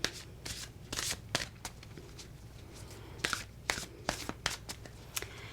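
Oracle moon cards are shuffled by hand in close, quiet bursts of riffling and flicking, with brief pauses between each round of shuffling.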